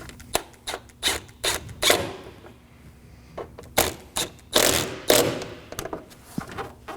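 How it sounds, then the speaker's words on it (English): A ratchet tightens two 10mm bolts on the coolant hose junction of a 2013-2016 Nissan Sentra, giving short bursts of rapid clicking separated by pauses, close up with no voices. "I'm just gonna snug both of these down."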